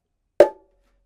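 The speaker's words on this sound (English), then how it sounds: "Then I'm gonna play a high note in the little drum with my left" A single sharp, bright high-note slap on the small drum of a bongo pair, ringing briefly before fading, heard alone in a quiet space.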